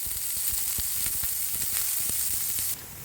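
Onion frying in a pan for a cauliflower bhaji, a dense continuous sizzle with crackling pops and stirring scrapes, close and steady before dropping slightly at the end.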